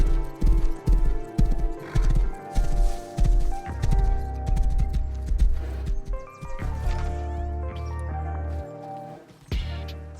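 A horse in the survival game Rust trots with steady clip-clopping hooves, loud and close, and gives a neigh mixed with squishy, dripping sounds near water, with no one talking.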